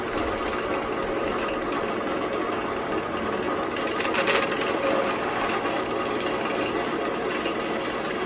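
A power drill with a standard, non-carbide bit grinds through metal in a continuous, steady motor whine with a gritty cutting texture and a brief brighter surge midway, close and loud, with no voices.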